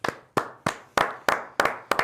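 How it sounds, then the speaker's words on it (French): Seven sharp, close hand claps fall in a steady, evenly spaced rhythm during a live children's show. Brief quiet gaps separate the claps, which sound more like a few hands than a full crowd. "On peut les applaudir."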